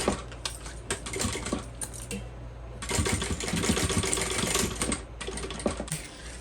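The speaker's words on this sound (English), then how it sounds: "So you want to pull both of your layers back and top stitch." A sewing machine top stitches a fabric crossbody bag with a fast, steady mechanical clatter in bursts, pausing briefly around the middle before running again, close and clear with no talk.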